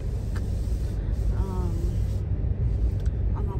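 Interior of a new car driving on a snowy day, a steady low road rumble and engine drone throughout, with a voice speaking briefly over it.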